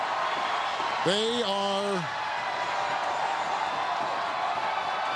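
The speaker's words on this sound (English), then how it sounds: "This crowd is jacked." Large stadium crowd at a Jets versus Bills NFL football game roars in a steady wash of cheering, with a voice speaking briefly over the noise.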